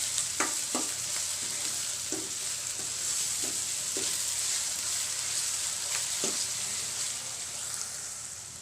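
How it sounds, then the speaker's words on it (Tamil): Onions frying in oil in a pan for brinjal poriyal, a steady close sizzle broken by several soft scraping stirs, with no voices. "நல்லா இது பொன்னிறமாக வரணும், அது வரைக்கும் நம்ம ஃப்ரை பண்ணணும்"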